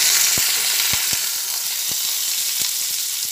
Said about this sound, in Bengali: পটল ভালোভাবে ভাজা হয়ে গেছে